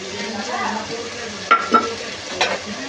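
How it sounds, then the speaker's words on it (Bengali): Spice masala for chicken curry, with ginger and garlic, being fried and stirred in a pan, a soft steady sizzle broken by a few spoon scrapes against the metal. "এই মশলাটা আমি ভালো করে এবার কষিয়ে নেব"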